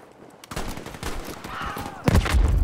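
Light machine gun fire in Battlefield V, a sustained rattle of close automatic shots running for about two seconds, with a heavier burst near the end over busy game noise.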